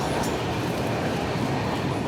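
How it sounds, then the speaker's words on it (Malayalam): The Netravati Express runs into Ratnagiri yard with a constant, dense rumble of moving rail cars. The noise is loud and close, as if heard from on board, and no one speaks. "നമ്മുടെ ട്രെയിൻ അകത്തോട്ട് കേവ് അടിച്ച് കയറുന്ന കാണാം"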